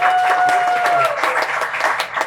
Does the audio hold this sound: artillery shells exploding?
no